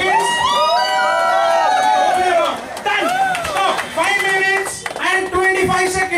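Crowd at a chicken-eating contest at a Mangaluru chicken restaurant claps and cheers for the participants, a loud steady din with voices talking and calling over it throughout.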